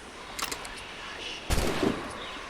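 Gunfire in the video game Assassin's Creed Rogue: two sharp shots, a lighter crack followed by a heavier boom with a short rumbling tail, over a faint ambient bed with no talk.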